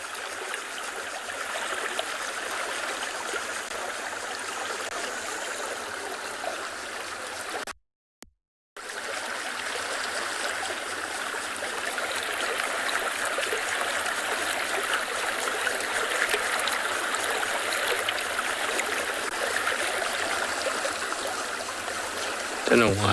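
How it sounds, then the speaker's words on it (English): Water trickling down a shallow riverbed, a constant soft babbling flow heard close and unbroken, with a brief silent gap partway through. "just sit and listen to the water trickling down the riverbed"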